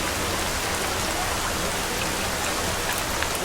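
Steady rain pours down in an even, dense hiss of drops on surfaces, loud and unbroken throughout.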